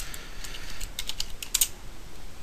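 Quick bursts of typing on a computer keyboard while editing script text: a dozen or so crisp, close key clicks in an irregular rhythm, with a small cluster near the end, and no talking.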